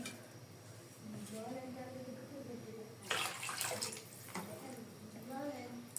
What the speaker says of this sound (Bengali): ঝোলের জন্য পানি দিয়ে দিলাম এখন আমি